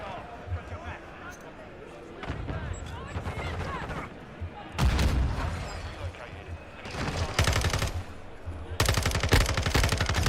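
Gunfire from Call of Duty Modern Warfare 2 comes in several loud bursts of rapid automatic shots, with fainter shooting and game noise between them.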